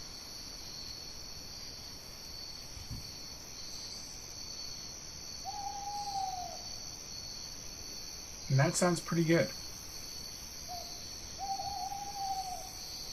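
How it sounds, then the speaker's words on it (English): Steady crickets chirp through a quiet night backdrop while an owl hoots softly a few times; someone speaks briefly near the middle. "I'm going to work with my my owl, because I want to make sure that has a certain sound in the ambience"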